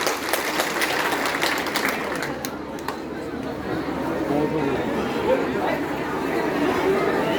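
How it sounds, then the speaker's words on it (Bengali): Fire drill participants gathered outdoors give a burst of applause, a dense wash of clapping mixed with crowd chatter and voices that fades into murmuring. "একটা জোরে তালি দিই"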